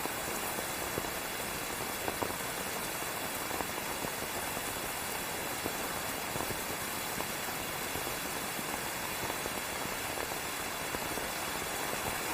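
Heavy rain falls steadily on surfaces, a dense continuous hiss with scattered close drop impacts, even and unbroken throughout.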